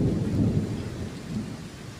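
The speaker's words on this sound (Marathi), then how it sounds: "विजा चमकणं आणि गडगडाट आहे" Low rumbling thunder rolls continuously through a stormy May night with light rain, a deep, steady roar that stays loud with no voices.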